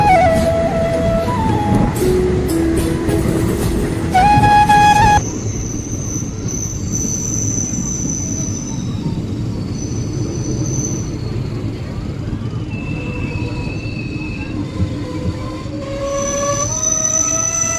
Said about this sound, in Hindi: ये है हमारी ट्रेन का दूसरा स्टॉपेज, 17वां रेलवे स्टेशन।